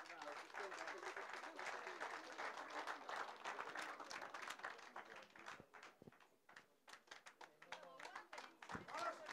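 A crowd applauds an anglers' team from Zimbabwe at a live bass fishing weigh-in: dense clapping at first, thinning into scattered individual claps with some voices underneath.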